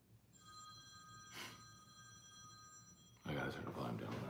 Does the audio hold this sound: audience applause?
no